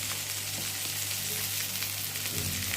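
Salmon fillets sizzle steadily in a hot frying pan in a home kitchen, a close, continuous crackling hiss with a low background hum and no talking.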